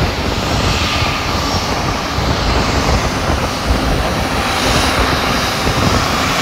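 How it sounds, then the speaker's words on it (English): Jet aircraft engine running, heard from close behind as a loud, constant roaring rush with no letup, dominating the whole stretch. "I'm back from standing behind jet engines"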